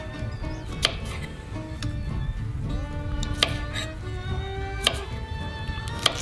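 A knife cuts broccoli florets off the stem at a camp cooking spot, making irregular sharp clicks and crisp snaps against a board over soft background noise.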